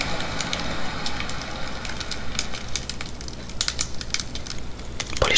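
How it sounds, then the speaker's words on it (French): Campfire crackling from the BetterSleep sleep-sound app, dense irregular pops and snaps over a low steady rushing bed, fairly loud and close, with no talking. "ça, c'est le feu de camp, justement. Mais seulement les crépitements"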